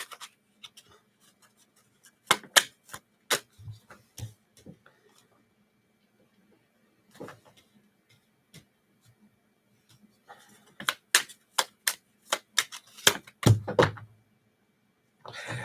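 Tarot cards are shuffled by hand: sparse riffles and sharp flicks and taps, with a quiet stretch in the middle and a denser run of quick card snaps near the end, close up.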